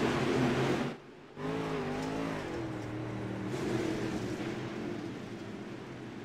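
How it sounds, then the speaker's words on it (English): Dirt-track race cars in iRacing, a sim racing game, roar and rev together at a race start, engine pitch rising as the pack accelerates, loud and continuous after a brief dip. "Jacob Cook stands on the loud pedal, and here we go, boys."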